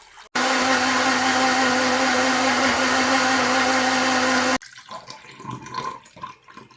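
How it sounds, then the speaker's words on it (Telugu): Mixer grinder blending chopped beetroot, apple and carrot with a glass of water into juice: a loud, steady motor whine for about four seconds that stops abruptly, followed by quieter rustling and handling noises. "ఈ ముక్కలన్నిటిని ఇప్పుడు మనం మిక్సీలో వేసి ఒక గ్లాస్ నీళ్లు కూడా పోయాలి"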